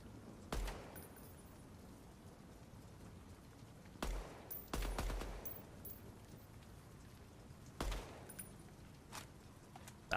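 Gunfire in the DEADROP video game: several sharp, loud shots and short bursts spaced a few seconds apart over a quiet background, with no talk.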